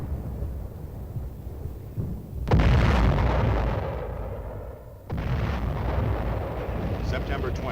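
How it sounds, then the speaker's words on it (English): Korean War film footage of heavy artillery fire and explosions delivers a constant, loud, booming rumble with sudden blasts around the middle, while a narrator speaks over it. "Heavy air and artillery fire was immediately focused on the enemy."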